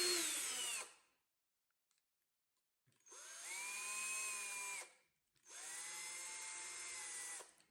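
Three bursts of a power drill with a 3.2mm bit whining at high speed, boring out holes in a robotic arm gripper, the first short and the next two longer, separated by pauses of near silence.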